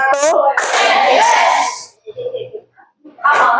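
A few sharp hand claps from children in a classroom clap routine, mostly masked by loud children's voices shouting and chanting between them.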